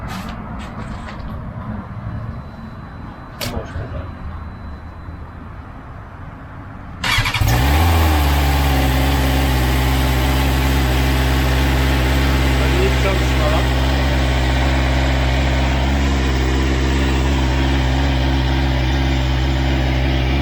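A new BMW's engine starts up after quieter background sounds, then settles into a steady, smooth and fairly quiet idle that hums on continuously up close.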